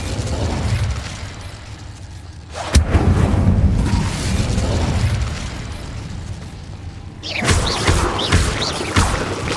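Incendio fire spell cast in the Hogwarts Legacy video game inside a cave, heard as a sharp burst at the start followed by a sustained roaring whoosh and a second flaring blast near the end, loud and close.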